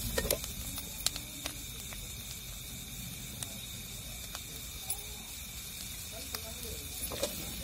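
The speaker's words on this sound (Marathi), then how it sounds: "आता कांदा येतो मी चांगला परतून घ्यायचा बघा।" Chopped onion sautéing in a pan for a quick mixed vegetable dish, a soft continuous sizzle with faint ticks and clinks, low household noise and someone speaking.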